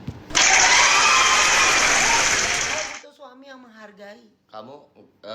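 Studio audience applause for Pinkan during a married couple's talk-show segment: a loud, dense burst of clapping lasting about three seconds, ending abruptly, followed by close speech.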